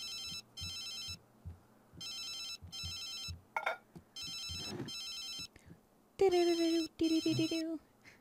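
A phone rings in The Sims 3 life-simulation game: bursts of high electronic trilling tones repeat in regular on-off pulses, joined by a higher melodic chime near the end, quiet overall over faint background sounds.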